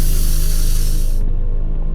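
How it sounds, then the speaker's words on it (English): A can of pepper spray hisses in one loud, steady burst lasting over a second in a video game, then cuts off abruptly, leaving a low background rumble. "Hopefully I got some pepper spray up in there"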